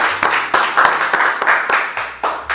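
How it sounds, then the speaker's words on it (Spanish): A short burst of hand clapping on a talk show, with sharp claps landing in a quick, fairly regular rhythm, close and loud. "aplausos para Café Branch, vámonos"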